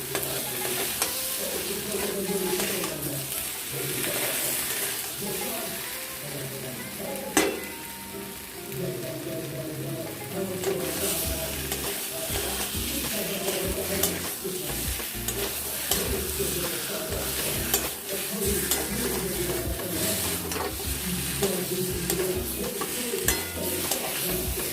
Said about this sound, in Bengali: এবার এটাকে আমরা দিয়ে দেবো ডিমগুলো দিয়েও কষে নেব